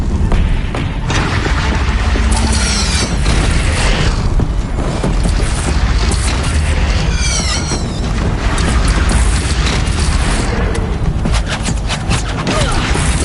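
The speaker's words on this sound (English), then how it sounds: "Take up a cannon on the platform." Cannon fire in the Horizon Zero Dawn game, heavy booms repeating through a dense, loud battle soundscape with steady rumble and clashing effects, no pauses throughout.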